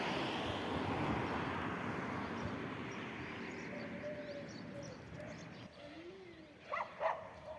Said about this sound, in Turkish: Görüyor musunuz arkadaşlar köpekleri?